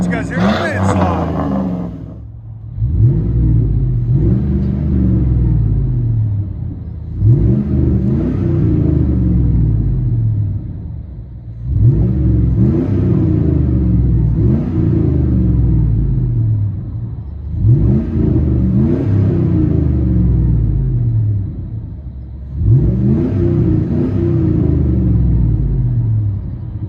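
Heard from inside the cab, the 5.3L V8 of a 2001 Chevy Silverado with SLP Loudmouth exhaust gives a deep, loud rumble, revved in five or six evenly spaced surges that each swell and fall back to idle.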